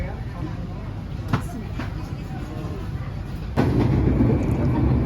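Interior rumble of a moving KRL Commuter Line CLI-125 train, steady and close, with a few clicks and a louder surge of track noise toward the end.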